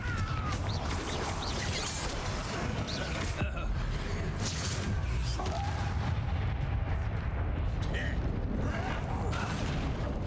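Fiery Confringo blast spells from the Hogwarts Legacy video game, dense booming explosions layered over continuous loud battle noise and music, with a voice shouting spell names throughout.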